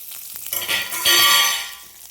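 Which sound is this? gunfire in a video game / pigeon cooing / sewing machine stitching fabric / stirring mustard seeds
stirring mustard seeds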